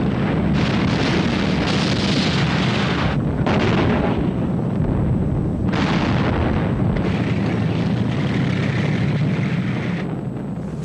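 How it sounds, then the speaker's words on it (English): Soviet T-34 tanks fire at point-blank range into enemy lines during a huge World War II armoured battle, a dense, loud barrage of booming blasts and rumbling explosions overlapping one after another. "The Soviet T-34s drove into the German lines and opened fire at point-blank range."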